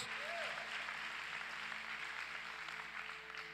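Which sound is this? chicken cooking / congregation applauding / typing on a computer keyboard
congregation applauding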